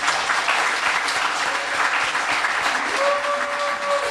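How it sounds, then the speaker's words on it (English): An audience applauds after a talk on learning FPGA and writing a Game Boy in Verilog, a dense, steady wash of many hands clapping at once, loud and sustained throughout. "a round of applause again for Wenting, everyone."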